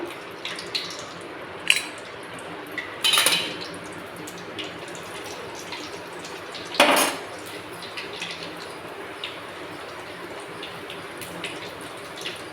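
Onion vadagam seasoning fries in oil in a pan for a bitter gourd and lima bean kara kuzhambu, producing a steady soft sizzle broken by a couple of sharp clinks of utensils against the pan.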